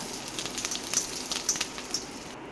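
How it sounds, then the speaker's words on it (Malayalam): Shallots frying with dried red chilies and curry leaves in hot oil for a pumpkin and lentil curry, a soft steady sizzle with scattered crackling pops, close and fairly quiet. "ചെറിയ ഉള്ളി നന്നായിട്ടൊന്ന് മൂത്ത് വരുമ്പോൾ അതിലേക്ക് വറ്റൽ മുളകും പിന്നെ ഒരു തണ്ട് കറിവേപ്പിലയും കൂടെ ഇട്ട് കൊടുക്കുക"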